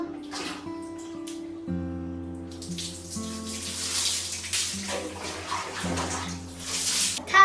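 Bath water runs from a tap into a tub in a steady, close, splashing gush that lasts throughout, with faint tonal sounds in the background.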